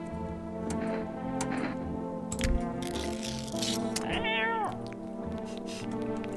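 A cat in the horror video game NO, I AM NOT A HUMAN gives a couple of clear, close meows, one rising then falling, over a steady droning game soundtrack.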